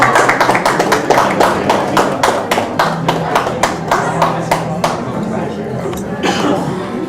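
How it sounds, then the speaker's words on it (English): Audience applause greets Mr. N.B. Tandon at the 13th World Leaders Summit, a loud, close run of distinct hand claps repeating steadily and then thinning out, with voices talking underneath. "Please put your hands together."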